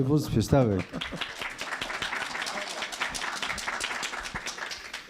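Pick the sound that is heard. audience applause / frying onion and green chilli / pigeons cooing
audience applause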